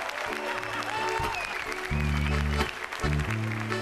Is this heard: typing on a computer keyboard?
no